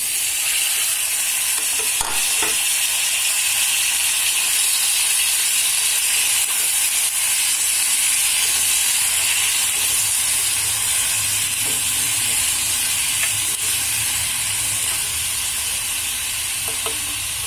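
Tomato pieces frying in a pan of oil with green chillies for a mint tomato chutney, a steady loud sizzle and hiss running continuously throughout with faint occasional stirring clicks.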